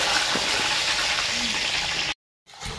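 Potatoes frying in hot oil in a wok, a loud continuous crackling sizzle with some stirring scrapes, cutting off abruptly near the end before a brief return.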